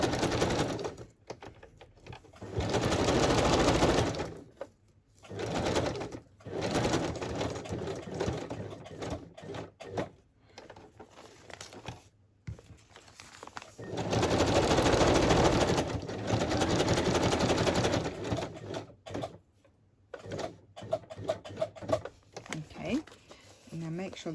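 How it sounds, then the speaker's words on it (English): A sewing machine stitches fabric down on a boho journal cover in several short whirring bursts, stopping and starting as the fabric is readjusted, with someone talking quietly between runs. "And then stitch this one down. Go right across."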